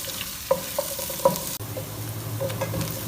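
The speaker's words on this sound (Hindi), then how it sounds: "2 मीडियम साइज़ के प्याज, बारीक से इनको कट कर लिए, इनको ऐड करेंगे और इनको अब हम फ्राई करेंगे" Finely chopped medium onions frying in a pan for a taro and eggplant dish, a steady soft sizzle with a few sharp utensil clinks against the pan near the start.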